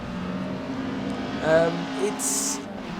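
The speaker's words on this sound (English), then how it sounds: "You could tell it was a 4-cylinder, and it had this nice buzzing noise to it" A buzzy four-cylinder Mazda MX-5 Global Cup race car engine in the video game Assetto Corsa drones steadily, with a couple of brief revs rising and falling, plus a short high-pitched burst near the end.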